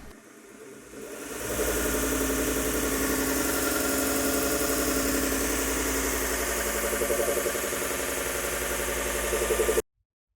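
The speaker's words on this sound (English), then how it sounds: "I now have the 100 grinding strap on it for the test poles, and I will set a speed of about 2000 revolutions on the drive wheel." A VEVOR mini belt sander fitted with a 100-grit belt, its drive wheel at about 2000 rpm, starts up and runs with a steady, loud whirring drone until it cuts off abruptly near the end.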